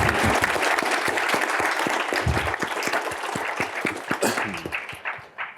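Audience at a national student symposium debate gives a round of applause, brisk close clapping with distinct individual claps that thins and tapers off over about five seconds.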